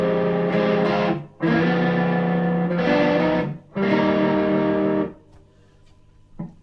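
Guitar played through an amp blended with a Leslie rotating speaker, distorted swirling chords struck in a rhythmic pattern of long held bursts with short gaps, then decaying into a quiet ringing tail.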